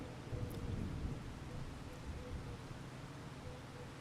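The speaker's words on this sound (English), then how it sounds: "I think it's meant to stop raining about midday" Steady rainfall in the Farming Simulator 25 video game, a continuous hiss of rain with low rumbling underneath, even and unbroken throughout with no voices.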